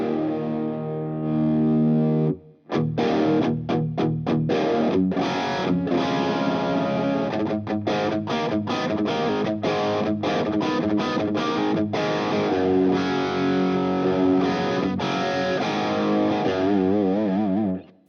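An electric guitar runs through a Klotz Amplification distortion pedal with the gain turned up, playing thick, overdriven chords and bluesy single-note runs in a continuous, loud, saturated tone.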